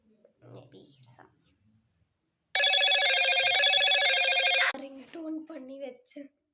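A phone ringtone plays loudly for about two seconds, a bright repeating electronic melody, with soft whispery talk before it and someone speaking right after.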